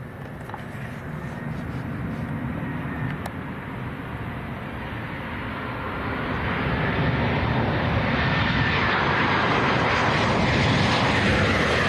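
A Ryanair Boeing 737-800 arriving from Dublin lands at Leeds Bradford Airport, a broad steady jet-engine roar that grows louder over the last seconds as it nears, with no talk over it.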